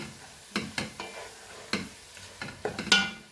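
Spices with Kashmiri chili fry in a pan over a medium flame, with a close, steady sizzle broken by several sharp scraping stir strokes at irregular intervals.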